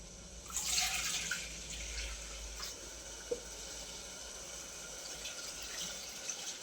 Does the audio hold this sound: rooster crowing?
no